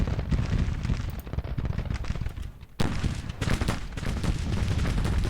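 Dense battlefield gunfire and artillery in the Civil War strategy game Grand Tactician, with continuous crackling musket volleys and heavy booms that briefly drop away before resuming at full intensity.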